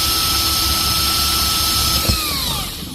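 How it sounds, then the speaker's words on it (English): A power drill runs steadily while boring a hole to install a solar fan, a loud continuous whine that surges as the bit punches through and then winds down. "So on your drill, again, you don't have to force this."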